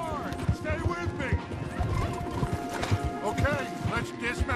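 Horses gallop with rapid clip-clop hoofbeats and repeated neighs and whinnies during a hard ride in the video game Red Dead Redemption 2, loud and close, mixed with other game sounds.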